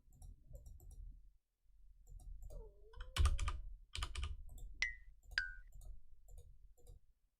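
Clicks and keyboard taps from old software, sparse sharp transients alongside two short electronic beeps, heard up close with no talking.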